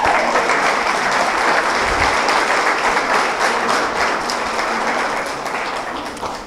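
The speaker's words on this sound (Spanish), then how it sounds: "Vamos a dar un aplauso al Señor por eso." A church congregation breaks into strong, dense applause during a sermon, a continuous wash of clapping that holds steady and then gradually fades near the end.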